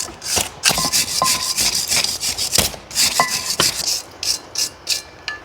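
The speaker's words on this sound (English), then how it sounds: "Now I will clean my caliper bracket." Scrubbing and wiping a BMW 650i brake caliper bracket by hand, a series of close, uneven rubbing and scraping strokes with short gaps between them.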